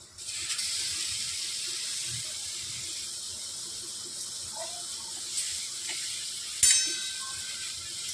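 Pineapple pieces tipped into melting sugar in a pan for a rava cake, giving a steady sizzling hiss with a few sharper clatters and one louder impact near the end.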